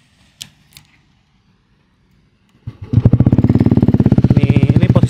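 Yamaha Aerox with a custom bass-heavy exhaust: a couple of faint clicks and silence, then the engine fires up and settles into a loud, close, deep idle that pulses rapidly and evenly.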